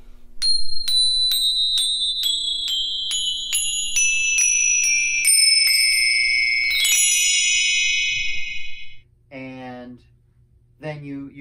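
Weiss chromatic saucer bells mounted on a frame are struck one after another, about a dozen bright, ringing metallic tones in a steady rhythm, each sustaining and overlapping, followed by someone speaking at the end.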